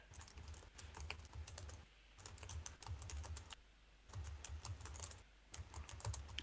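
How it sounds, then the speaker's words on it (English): Loud clicking of a computer keyboard being typed on in bursts, with short pauses between runs of rapid keystrokes, close up and alone. "there's a loud keyboard on this thing"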